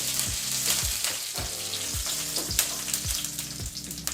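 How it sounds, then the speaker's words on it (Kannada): Curry leaves and spices crackle and spit in hot oil in a pan, a continuous sizzle broken by repeated sharp pops and stirring scrapes, close and fairly loud with no talk. "ಹಾಗೆ ಸ್ವಲ್ಪ ಕರಿಬೇವಿನ ಸೊಪ್ಪನ್ನು ಸಹ ಸೇರಿಸ್ಕೊಳ್ತಾ ಇದ್ದೀವಿ. ಈಗ ಇದನ್ನೆಲ್ಲ ಒಂದು 30 ಸೆಕೆಂಡ್ಗಳ ಕಾಲ ನಾವು ಫ್ರೈ ಮಾಡಿಕೊಂಡ್ರೆ ಸಾಕಾಗತ್ತೆ"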